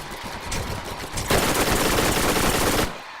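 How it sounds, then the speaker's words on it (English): Rapid automatic gunfire in the Borderlands shooter game, set in the Underdome arena, a loud dense burst that rattles continuously for about three seconds and then cuts off, with no voices over it. "Somebody shooting from that side."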